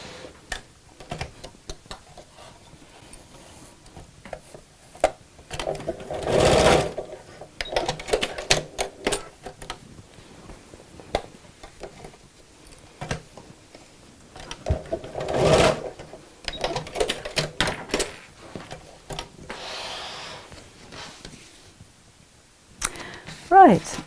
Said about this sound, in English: I'm just going to sew over the ends to secure them.